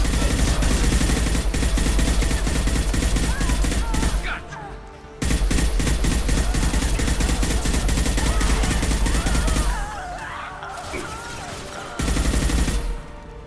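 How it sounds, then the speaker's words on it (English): High impact guns fire in Mass Effect 2, a dense, loud stream of rapid shots and impacts forming near-continuous fusillades, broken by two brief lulls. "Firing high impact shots."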